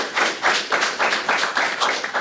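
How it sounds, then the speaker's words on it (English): A small group claps in a steady, brisk rhythm of distinct hand claps across the whole stretch, nearby and fairly loud, with no voices heard. "let's give him a big round of applause"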